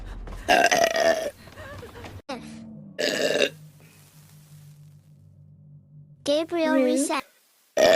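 Several long, croaking burps come one after another, loud and close, with drawn-out throaty tones and a low humming drone between them.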